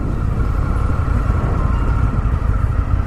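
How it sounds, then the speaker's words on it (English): Engine of a 2019 Indian FTR 1200 motorcycle on the road, a continuous dense low rumble with steady wind-like roar throughout, no talk. "the engine braking on here is beautiful."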